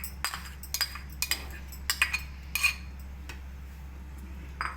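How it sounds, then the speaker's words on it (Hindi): A spoon stirs rice, milk and carrot kheer in a pot, making a few light, irregular clinks and scrapes against the metal, close but soft over a low steady hum, with no voices. "आपने इस दौरान में चम्मच हिलाते रहना है"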